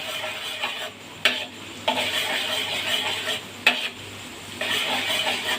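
Chopped garlic sizzles steadily in hot ghee in a kadai while a spoon scrapes and stirs in repeated strokes, with a few sharp metallic clinks against the pan.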